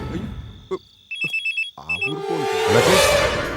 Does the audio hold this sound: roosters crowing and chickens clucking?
no